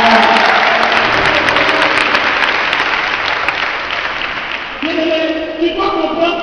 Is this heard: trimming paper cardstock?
no